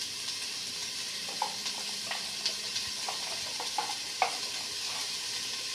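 Spices are stirred in a frying pan while cooking a prawn biryani, giving a quiet, steady sizzle with light, irregular scraping taps from the spoon.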